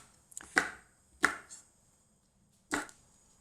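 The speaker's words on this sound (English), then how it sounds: "I've got some chopped green chilies, so I'm just going to chop these." Three crisp knife strikes against a cutting board, spaced unevenly, as green chilies are given a rough chop; close and clear over near silence, with no voices.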